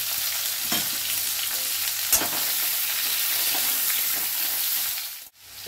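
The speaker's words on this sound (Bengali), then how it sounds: "এবারে আমি সব তরকারিটা ঢেলে দেব" Mixed vegetables for a Bengali shrimp curry hit hot oil tempered with dried red chilli, bay leaves and five-spice, bursting into a loud, steady sizzle that holds throughout, with a brief clatter midway and an abrupt drop near the end.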